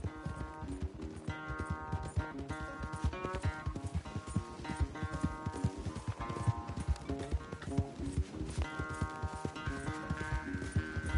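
Hooves of a galloping horse in a race in the Red Dead Redemption 2 video game, rapid rhythmic clip-clop under a continuous musical score.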